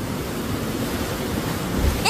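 Strong sea waves surging and crashing against the shore, a continuous loud roaring wash of surf with wind noise on the microphone, close by, rising slightly toward the end.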